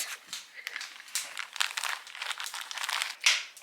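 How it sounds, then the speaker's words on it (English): Plastic bags crinkle and rustle as they are opened and filled with a dozen homemade holiday food portions bound for the freezer, close-up crackling in irregular bursts. "I'm going to go ahead and put these in plastic bags"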